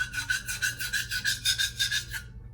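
Knife steel rubbed back and forth on the coarse lapped side of a Jasper whetstone, a close, rasping file-like scrape repeating in quick even strokes, about eight passes, alone.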